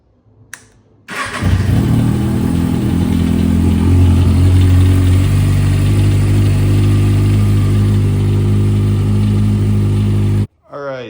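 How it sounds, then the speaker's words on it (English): A Kawasaki ZX6R motorcycle with a cam chain rattle starts up and runs at a loud, close, steady idle for about nine seconds before cutting off; a mechanical rattle runs through the engine note. "we're gonna start up the bike and see if that rattling is gone"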